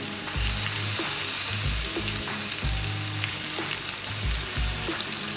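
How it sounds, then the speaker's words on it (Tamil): Chicken chukka sautés in a pan with a loud, continuous sizzle, broken by repeated scraping stirs roughly every second. "இது அப்படியே 1 நிமிஷம் வதக்கிட்டு இறக்கிடலாங்க"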